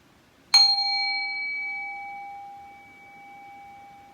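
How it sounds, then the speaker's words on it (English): A single bell struck once to open a mindful breathing minute in a school class, its clear tone ringing out loud and close and then fading slowly over several seconds, with no talking. "I'm going to be ringing my bell, and we're going to start the mindful breathing minute"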